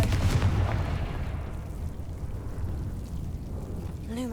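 A Confringo fire spell is cast in Hogwarts Legacy, giving a loud booming blast at the start that rolls off into a long rumbling decay, with a brief tonal chirp near the end.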